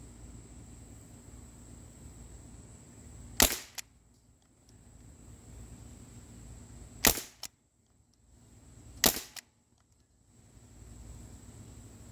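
A Crosman 1077W air rifle fires three sharp, close cracks spaced a few seconds apart, each a sudden snap against quiet room tone.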